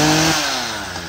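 A Makita chainsaw cutting wood roars loudly up close, its engine pitch sliding down as it eases off over about a second.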